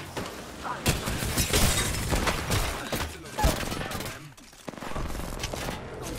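Rapid bursts of gunfire from scout and other weapons in a competitive shooter game featuring Pathfinder, loud and dense with overlapping shots and impacts, with occasional speech in the background.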